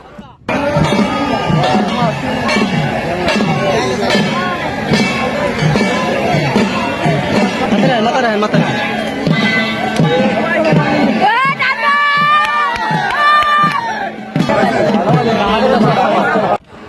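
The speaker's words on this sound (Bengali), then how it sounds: "প্রচুর লোকজনের ভিড় এর মধ্যে কোনো রকমে আছি আমিও" A large crowd chatters at a boat race in Madaripur, a loud dense babble of many voices that continues with a brief dip partway through, with nearby people talking over it.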